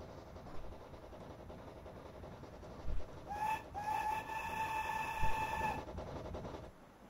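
A steam locomotive called the Invincible, running in a train simulator game, gives one long steam whistle blast that rises in pitch and holds for a couple of seconds over a faint rolling rumble, with a few soft clunks.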